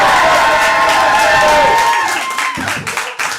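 A comedy club audience cheers and applauds a comedian in a loud, dense burst of clapping and whoops that thins into scattered claps toward the end.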